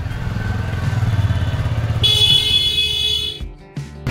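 A heavily loaded motorbike piled high with gear rumbles along a road in Rajasthan, its steady engine throb giving way midway to a high electronic tone and shifting noise.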